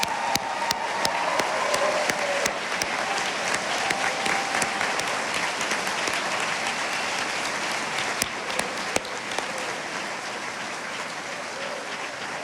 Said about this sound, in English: turn around one more time so we can all applaud our newest alums of Frederica Academy